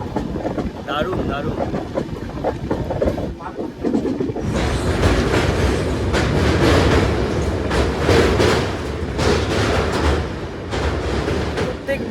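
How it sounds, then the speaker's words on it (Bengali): The Kulik Express, Howrah to Radhikapur, rolling through a turn in the late afternoon, a loud continuous rumble of coaches on rails with rhythmic clatter that grows heavier midway. "ট্রেনের এই টার্নিংটা জাস্ট দারুণ লাগছে"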